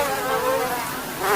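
Dense, steady insect whine from a large mass of caged, mass-reared mosquitoes bred for eggs, a continuous buzzing drone with wavering pitch that swells slightly toward the end, heard close and alone with no talk.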